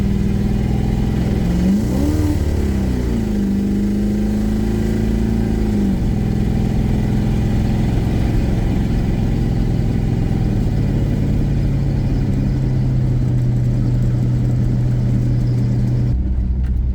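A 1985 Chevy C30 truck, swapped from diesel to a gas engine with a carburetor, runs steadily at close range, revving up briefly early on and then settling into an even idle with no talking.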